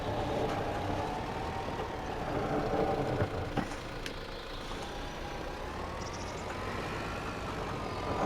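A Landini tractor engine in Farming Simulator 25 runs with a steady, low diesel rumble and a slight shifting drone. Faint clicks and knocks sit over the continuous motor, which keeps an even level throughout.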